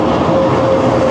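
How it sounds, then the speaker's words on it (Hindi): The Karakoram Express, hauled by locomotive GU4903, rolls slowly through Jhimpir station. A steady, continuous rumble of train wheels and wagons carries close and loud from start to finish, with a faint sustained tone running above it. "42 डाउन कराकरम एक्सप्रेस जो बहुत ही हल्की रफ्तार से जमपीर क्रॉस करके गुज़र रही है डाउन साइड पर"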